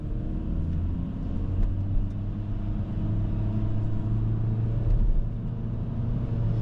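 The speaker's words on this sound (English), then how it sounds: "as you hear, the car engine gets a little bit noisy when you want to reach higher speeds sooner" The engine of a 2024 Honda Civic Sport grows noisier as it accelerates toward higher speed, heard from inside the cabin as a steady low rumble with a rising engine tone and no talk.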